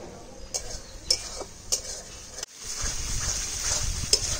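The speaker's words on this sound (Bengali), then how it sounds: "মশলাটাকে ভালো করে কষাবো যতক্ষণ তেলটা না ছাড়বে ততক্ষণ অব্দি" Spice paste stirred and fried in oil in a pan for Bengali-style dahi chicken, with a few sharp clinks of a utensil against the pan, then a steady close sizzle of frying.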